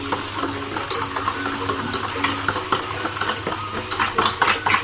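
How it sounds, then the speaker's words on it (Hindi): Mango cake batter with a little curd is mixed in a bowl by hand, giving continuous scraping and light clinking strokes at a quick, uneven rhythm, close and fairly loud. "अब इसे हम अच्छे से मिक्स कर दें इस तरीके से"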